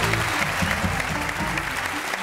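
Audience applause for a singer on a Turkish television entertainment show, steady dense clapping filling the whole short stretch at an even level, with no talk over it.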